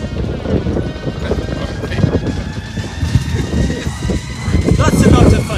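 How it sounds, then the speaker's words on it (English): Strong wind buffets the microphone outdoors on a rocky coast, a loud continuous rumbling roar with gusts that swell and fade, while a person talks over it. "Did I mention there's a lot of wind blowing?"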